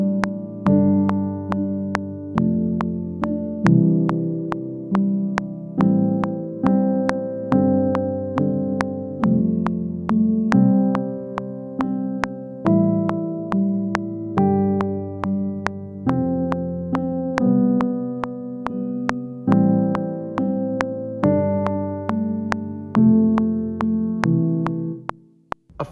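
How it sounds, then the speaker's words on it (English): Keyboard playing a repeating chord sequence with two notes at a time in the right hand over a bass, steady evenly spaced chord changes with clear sustained tones, played alone without talk. "this is me playing the same sequence with two notes at a time in the right hand"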